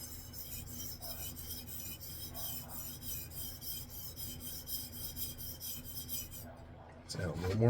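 A Japanese chef knife is drawn repeatedly across a wet whetstone, giving a steady, close rasping scrape in even back-and-forth strokes, then a brief pause and a louder shuffling handling noise at the end.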